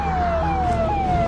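A loud, close siren wailing in a steady sweeping tone, with a vehicle engine rumbling underneath.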